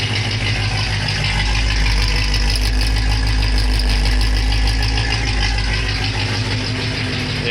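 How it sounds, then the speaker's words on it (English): A 1976 Oldsmobile Cutlass with a 455 engine, Pypes 3-inch exhaust and FiTech fuel injection idles steadily, a loud, constant low rumble with a faint rattle and no break. "As the engine warms up, the IAC will probably"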